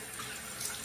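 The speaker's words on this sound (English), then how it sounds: "Now I'm gonna first rinse my face off." Water runs steadily from a bathroom sink tap while a face is rinsed, a continuous close hiss and splash with no voice.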